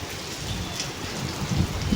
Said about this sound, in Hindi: यहाँ पे देखें ये गाड़ी के ऊपर बारिश पड़ रही है